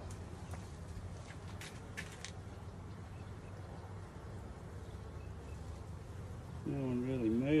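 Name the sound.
honey bees buzzing in a hive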